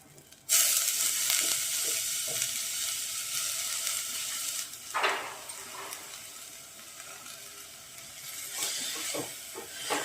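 Fenugreek leaves (methi) dropped into a hot pan, bursting into a loud sudden sizzle that settles into steady frying hiss, with occasional stirring clinks and scrapes.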